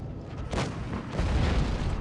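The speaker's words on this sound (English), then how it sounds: "Nothing like the T-34 PLV there, working that IS-3, who is in desperation firing HE at him." An IS-3 tank firing HE shells in the WoT Blitz video game: a single heavy boom, then a rumbling low roll as the blast and its echo swell and linger.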